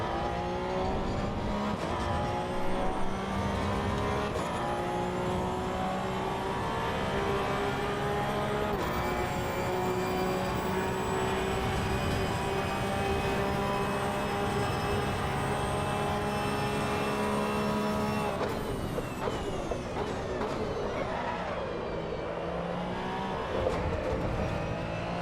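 Race car engine in the Assetto Corsa EVO driving game, a steady loud drone holding high gear on a clean lap, pitch shifting as gears change and easing briefly near the end, with no talking.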